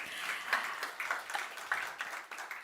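An audience claps warmly at a corporate budget breakfast event, with steady, moderately loud applause and no talking.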